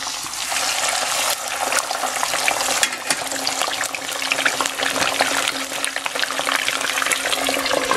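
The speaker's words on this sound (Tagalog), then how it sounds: "So dito, pipirituhin natin itong tilapia." Tilapia fish frying in heated cooking oil, a loud, continuous crackling sizzle with dense popping spatter that holds steady from start to finish, close by and with no talking.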